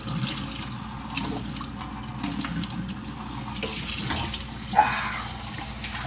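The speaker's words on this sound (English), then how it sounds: "Get some water going here" Water runs steadily from a tap into a sink on a homestead, a soft continuous splashing hiss with a brief clink partway through.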